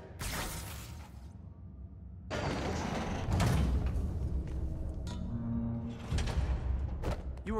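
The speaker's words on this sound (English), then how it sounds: "You were right, Jeff. Trap door." Heavy hidden trap door in a Spider-Man video game sliding open, a grinding mechanical scrape in two long bursts separated by a brief lull, loud and close, ending with a thump.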